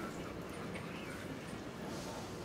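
Soft dog whimpering from a dog character in the video game Detroit: Become Human, a steady faint whine over low ambient room noise with no talk.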